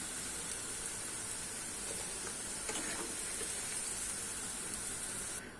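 Soft, continuous hissing sizzle of eggplant frying in oil, faint and steady with no voices.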